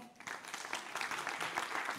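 Steady clapping from a small group, moderately faint and continuous across the whole moment.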